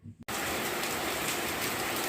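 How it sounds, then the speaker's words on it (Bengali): Heavy rain pours down in windy, stormy weather, a dense steady roar of drops on surfaces that starts abruptly after a brief moment and continues loud and unbroken. "দেখো কি জোরে বৃষ্টি হচ্ছে"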